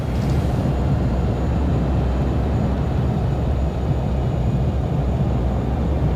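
Jet airliner thrust reversers roar steadily after touchdown in a flight simulator, a dense, continuous, loud rumble with no speech over it.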